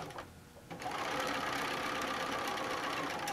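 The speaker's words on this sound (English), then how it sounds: "And we're going to sew on one end." A sewing machine starts up after a brief pause and runs steadily, stitching a quarter-inch seam through fabric with a continuous, even mechanical whir close by.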